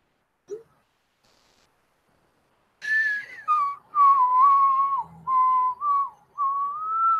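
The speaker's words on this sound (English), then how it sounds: "I know how to whistle, guys." A person whistles a wavering, melodic tune close by, after a short pause, in several phrases of sustained and sliding notes with brief gaps between them.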